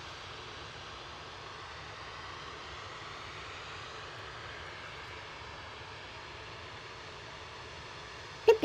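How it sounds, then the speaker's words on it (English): An EasyJet Airbus A320neo jet takes off at Manchester Airport, a faint, steady, even engine roar heard from a distance, ending in a brief sharp knock. "EasyJet's GUZLS lined up from Tango to go to Jersey, flight 729 A320 Neo."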